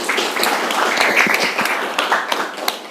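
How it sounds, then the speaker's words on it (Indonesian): Students in an Indonesian classroom clap for a classmate, a lively burst of many small hands with sharp individual claps standing out, close and fairly loud throughout. "tepuk tangan dulu buat Nadine"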